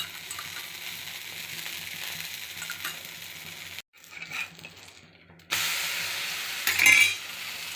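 Adai dosa frying in oil on a pan, a steady sizzle broken by a short near-silent gap and a scraping, clattery stretch before the sizzle resumes louder, with no talk.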